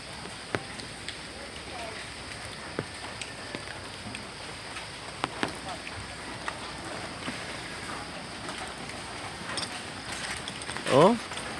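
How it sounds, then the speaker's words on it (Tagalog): Heavy, unrelenting rain in Mariveles, Bataan pours down as a steady wash of hiss with scattered sharper drops and knocks, and a voice speaks over it. "Grabe na yung ulan dito sa Maribeles."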